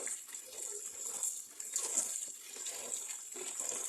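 Water washes brine off pickled mustard greens in a soft, continuous splashing rinse, fairly faint and without any voices.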